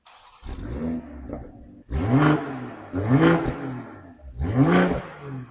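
A 2024 BMW M240i coupe's sport exhaust blips through four sharp revs, each rising then falling in pitch, separated by brief quiet pauses, close and loud.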